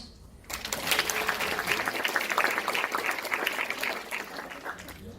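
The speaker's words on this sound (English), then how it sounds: "One more round of applause." An audience claps after a conference talk on digital storytelling, the applause rising suddenly and holding steady as a dense, moderately distant wash of many hands.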